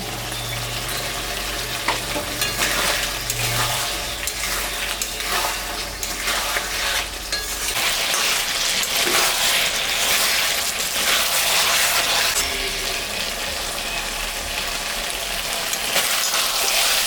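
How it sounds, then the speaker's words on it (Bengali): Spice paste frying in a pan for a mixed-vegetable curry with tangra and singhi fish, giving a loud, dense, continuous sizzle with occasional stirring scrapes, heard alone without any talking. "মশলাটা একটু ভাজা হবে"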